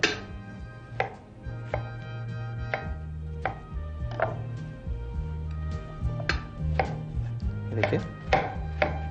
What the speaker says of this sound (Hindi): अब इसके बाद ये पपीता और जो वाटरमेलन है उसके आप पीसेस काट लें।